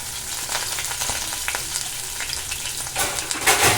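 Finely chopped onion frying in a pan for egg rice, a steady close sizzle with light stirring scrapes, growing louder and brighter toward the end.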